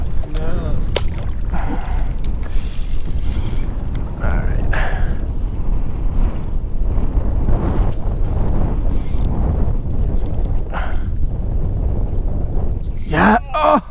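Wind blowing across open water during kayak fishing, a constant roaring buffet on the microphone with occasional knocks and splashes, and voices talking over it.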